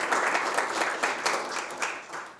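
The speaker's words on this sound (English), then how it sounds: "So let's give them a round of applause." A crowd at a community conversation event on the future of work applauds its sponsors, with steady, moderately loud clapping from many hands that tapers slightly toward the end.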